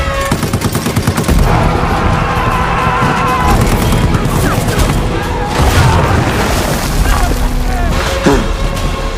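A World War I trench battle with French troops firing rifles and artillery: loud, dense bursts of gunfire and heavy booms overlap continuously, with dramatic background sound layered in.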